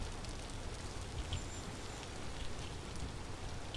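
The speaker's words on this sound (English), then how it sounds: "It has not once stopped raining this entire stream" Steady rain falling in the video game Vintage Story, an even hiss of drops on surfaces that continues unbroken throughout with no voices.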